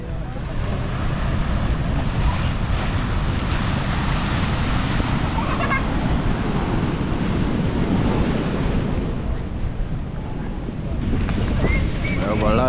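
Ocean waves crashing along the Puerto Vallarta boardwalk, a steady loud roar of surf with wind buffeting the microphone throughout.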